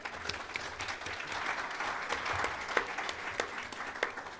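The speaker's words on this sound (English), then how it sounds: "A round of applause for her." Audience applause at a digital transformation summit in Diani, a soft, steady patter of many hands clapping at a distance with a few sharper claps standing out.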